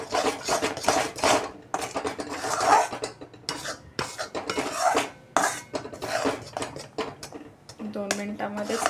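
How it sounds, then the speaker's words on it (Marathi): A kaju katli mixture being stirred in a pan, a spoon scraping and clinking against the metal in repeated strokes throughout, with a voice talking over it. "थोडंसं मिश्रण दाटसर होईपर्यंत आपण हे हलवणार आहोत."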